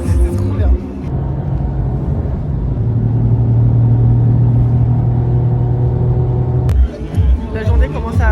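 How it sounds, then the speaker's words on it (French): A Toyota Yaris GR laps the Spa circuit, its engine holding a loud, sustained drone under passing voices before cutting off abruptly near the end. "Je viens de rouler sur circuit avec la Yaris GR, c'était incroyable."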